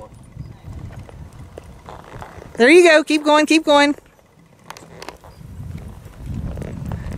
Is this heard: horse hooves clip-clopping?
yes